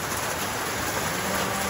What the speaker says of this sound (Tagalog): ang weather dito, grabe ulan